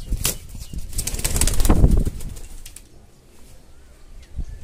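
Fancy pigeons, including Belgian Satinettes, are let go and burst into loud, close wing flapping for about two seconds. The flapping fades, and faint coos and rustles follow.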